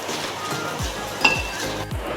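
Grated coconut being sautéed in a pan for vatha kuzhambu, with a spoon scraping and clinking against the pan in several quick strokes over a faint sizzle, close by and with no talking.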